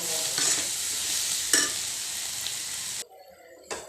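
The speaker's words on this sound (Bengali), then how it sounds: "আর এদিকে শুকনো মরিচ পেঁয়াজ টেলে নিচ্ছি মানে তেল দিয়ে একটু ভাজতেছি" Onions, dried chillies and mashed jackfruit seeds fry in oil with a loud, close sizzle and a couple of stirring scrapes, cutting out briefly near the end before one last scrape.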